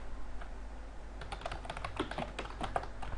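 A password typed on a computer keyboard at a Linux command line, a short burst of quick, close key clicks starting after a quiet moment, with no speech.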